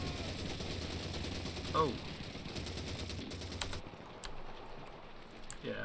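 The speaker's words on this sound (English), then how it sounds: "I think it's time to stop shooting at them now" Gunfire from the video game Call of Duty 2, rapid dense rattling bursts running steadily under game noise, with a brief spoken exclamation in the middle.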